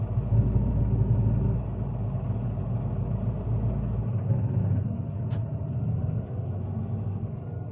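A 2013 Fendt 939 Vario Profi tractor rated at 396 hp runs while driving, giving a steady low engine rumble throughout with a heavier low end at the start and no talk.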